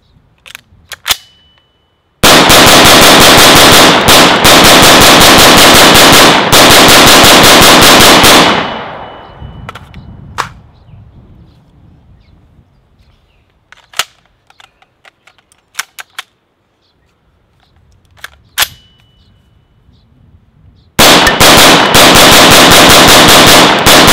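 Sig Sauer MCX rifle dumping 100 rounds, very loud sustained rapid-fire bursts lasting several seconds, then a pause with scattered clinks and clatter before another loud stream of shots begins.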